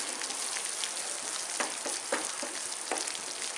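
Pizza sauce sizzles steadily in a pan as it cooks, a dense frying hiss with a few soft stirring scrapes, heard close up and alone.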